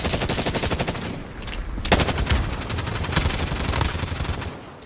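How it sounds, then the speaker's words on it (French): Rapid automatic gunfire and scattered shots in a close-range video game firefight, loud and continuous with sharp bursts throughout, no talk over it. "Continue de tirer dessus"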